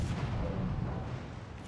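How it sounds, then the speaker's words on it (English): Warship guns firing in World of Warships Legends: a dense, continuous low rumble of naval gunfire and booms filling the moment, steady and heavy throughout with no talk. "so we'll pick on them and fire our guns"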